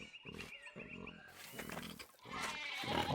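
Sheep bleating in the historical adventure game Pentiment, overlapping nasal calls near and loud over a steady bed of game ambience, growing fuller in the last second.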